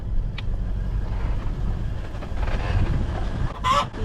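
A wooden bridge in high country creaks under a 4x4 towing an offroad caravan. Low engine rumble runs throughout, broken by scattered squeaks and a loud squealing groan near the end.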